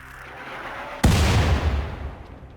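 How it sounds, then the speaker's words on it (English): A single sharp rifle shot in the combat game RimWorld cracks out abruptly, loud and close, followed by a long rumbling decay that fades over the next second and a half. "In just a single shot, the rifle pierced her brain"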